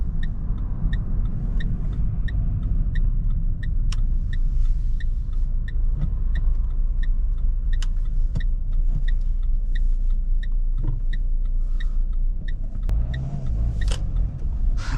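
A Renault Megane 3 Icon with the 1.5 dCi 110 hp diesel engine idles with a steady low rumble from inside the cabin, with a brief throttle blip near the end over faint regular ticking.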